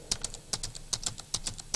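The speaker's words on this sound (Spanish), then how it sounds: "Puedo poner las notas en la partitura virtual, tecleándolas aquí" Fingers tapping on a computer keyboard while entering music notes into Sibelius notation software, a few quick keystroke bursts in irregular clusters, close and fairly quiet with no talking.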